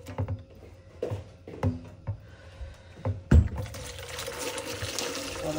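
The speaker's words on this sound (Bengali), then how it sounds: "এটাতে আমি একটু গরম পানি দিয়ে দিই।" Hot water poured into a kitchen sink: after a few scattered clunks and handling knocks, a steady splashing gush of water starts and continues to the end at close range.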